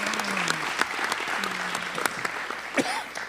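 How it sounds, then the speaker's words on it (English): Audience applause at a Philadelphia mayoral primary forum, steady dense clapping from a crowd throughout, with brief voice fragments mixed in. "If we can give them a round of applause for supporting tonight's event."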